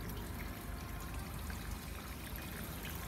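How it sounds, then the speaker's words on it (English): Water trickling and dribbling down behind the near-side rear light of a 2011 Ford Focus Titanium, a steady soft pour with no talk. "my colleague's just putting some water down the back of the near side headlight"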